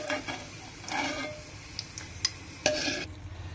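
Dry fruits fry in a pan for a festive sweet, with a soft sizzle under scraping stirs and a few sharp clinks of a spoon against the pan.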